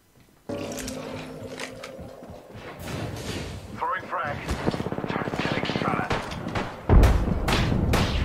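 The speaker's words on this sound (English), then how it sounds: "Throwing frag" A frag grenade in Apex Legends, a sharp booming blast near the end amid gunfire-like thumps and game noise, with voices talking throughout.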